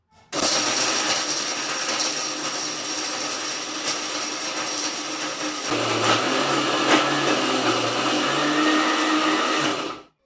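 A mixer grinder whirs loudly and steadily for about nine seconds while it powders roasted masala spices. Partway through, the motor pitch drops as the load shifts.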